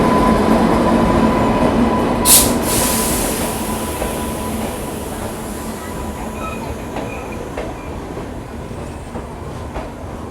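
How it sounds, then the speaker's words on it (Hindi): The Amarnath Express pulls in behind a WAP7 electric locomotive with a loud, continuous rumble and rail noise, a sharp hiss or squeal burst early on, and the roar slowly easing off afterward. "तो ये आ गई अपनी अमरनाथ एक्सप्रेस ट्रेन तुगलकाबाद का WAP7 लोकोमोटिव के साथ।"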